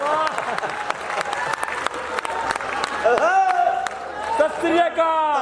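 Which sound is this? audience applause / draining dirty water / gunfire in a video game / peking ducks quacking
audience applause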